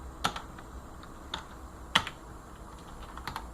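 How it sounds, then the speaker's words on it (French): Someone types sparsely on a sensitive computer keyboard, a handful of sharp, close clicks spread irregularly over a few seconds, one louder than the rest, with quiet gaps between them and no talking. "Il est vraiment sensible ce clavier, il faut que j'arrive à le régler autrement."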